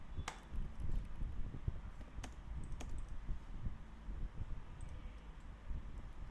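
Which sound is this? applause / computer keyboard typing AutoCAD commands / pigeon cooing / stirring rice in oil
computer keyboard typing AutoCAD commands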